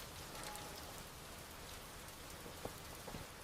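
Steady rain falls in a continuous even hiss with a few sharper drops, alone and without voices.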